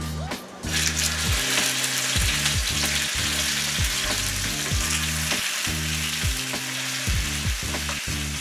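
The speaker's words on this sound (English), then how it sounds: "In a well-oiled skillet, we're gonna sear our beef." Beef searing in a well-oiled skillet for birria tacos gives a loud, steady sizzle that holds from start to finish, with a faint underlying hum.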